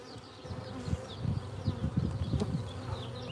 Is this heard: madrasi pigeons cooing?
no